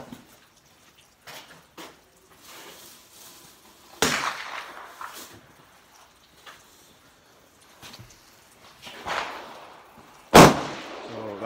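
Sharp single shots from a Savage MK2 rifle firing Blazer ammunition, a few spaced cracks with quiet handling noise between them, the last report the loudest.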